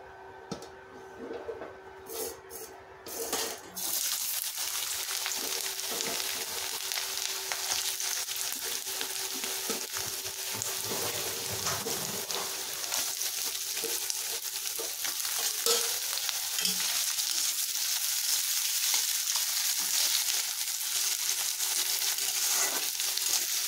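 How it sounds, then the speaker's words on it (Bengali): Cauliflower, capsicum, peas and chopped onion frying in a pan, a few taps at first, then a steady loud sizzle with a faint hum running under it throughout, occasional stirring scrapes, no talking. "তো আগে সব সবজিগুলো ভেজে নেবো একে একে।"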